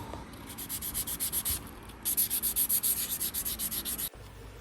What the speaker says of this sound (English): Next up, the super fine sanding pad.